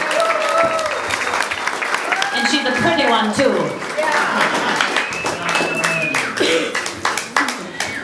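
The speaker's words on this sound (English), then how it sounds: "Give her a big round of applause, everybody." An audience applauds at a family history presentation, a dense wash of clapping running under and between a man's spoken words, steady and fairly close throughout.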